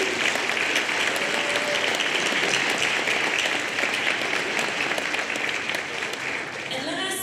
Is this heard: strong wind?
no